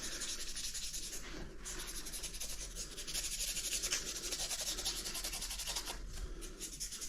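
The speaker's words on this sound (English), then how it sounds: "using that backing paper to give everything a bit of a rub to heat up the adhesive" Kinesiology tape being rubbed briskly with its own backing paper to warm the adhesive, a steady close scratchy rubbing that runs continuously for several seconds with brief pauses, no voices.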